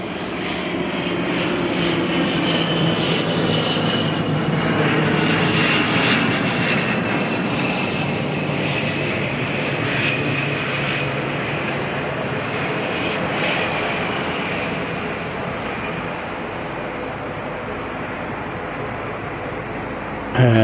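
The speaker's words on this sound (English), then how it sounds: "So here comes the ATR." An ATR turboprop airliner arrives at Auckland airport at night, its engines giving a loud, steady roar that swells and holds for the whole stretch, then eases slightly toward the end.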